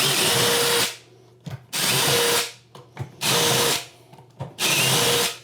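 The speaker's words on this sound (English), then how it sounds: "We're going to pre-drill some holes." A power drill pre-drills holes in four loud bursts of about a second each, whirring steadily, with short pauses and small clicks between them, during a bathroom renovation.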